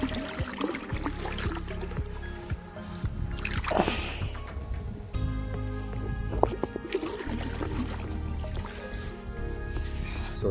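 Water splashing and trickling while feet are washed outdoors on a farm, irregular dribbles and squishy splashes over a constant low background, with talk in places.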